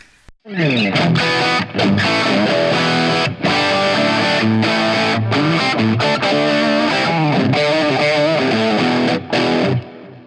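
Electric guitar played through a ROEBUCK amp, loud and distorted with dense sustained chords and riffs that ring continuously, broken only by a few brief gaps.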